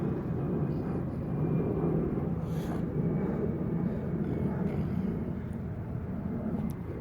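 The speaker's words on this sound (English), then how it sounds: "And the plane flying overhead." A plane passes overhead as a continuous low, far-off rumble that holds steady throughout, with faint traffic-like noise mixed in.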